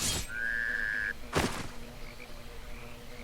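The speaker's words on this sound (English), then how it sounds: "A frog." A frog in Albion Online gives a single short, loud croak against quiet game ambience, preceded by a brief tonal whistle, with no talking.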